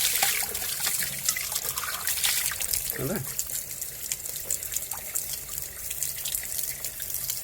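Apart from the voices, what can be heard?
water running from a kitchen tap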